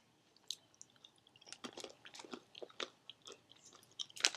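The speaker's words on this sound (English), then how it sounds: "We're gonna taste the jalapeno." A jalapeno-flavored snack is chewed close to the microphone, producing irregular crunchy bites and mouth noises that grow denser and louder toward the end, with no talking.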